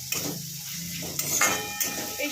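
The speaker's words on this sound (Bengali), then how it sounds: "এটাকেও একটু ভালো করে ভেজে নেবো, হাই হিটে দেবো যাতে আলুটা ভালো করে সেদ্ধ হয়ে যায়।" Potatoes frying over high heat in a wok, a continuous sizzle broken by a few metal clanks and scrapes from the utensil, close by and without speech.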